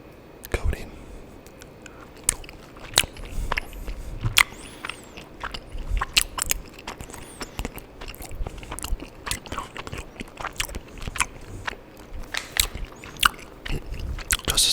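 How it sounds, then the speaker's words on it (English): Chocolate-coated gummy bears being bitten and chewed close to the mic, with sharp crunchy bites and soft wet chewing in an irregular rhythm throughout, with some quiet whispered talk. "Those are gummy bears that have a chocolate coating."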